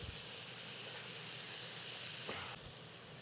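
Butter and lemon sizzle in a hot pan where scallops are being cooked for a surf-and-turf dish. A soft, even, continuous sizzle is heard close up, with a faint knock just before the end.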